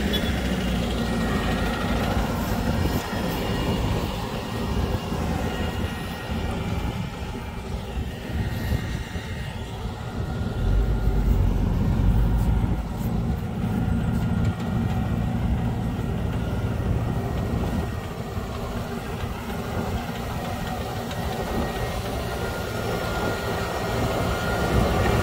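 Big roll turf harvester pulled by a tractor working in a field, cutting 25-metre rolls of turf, giving a steady droning engine and machinery rumble that runs continuously at moderate loudness, without speech.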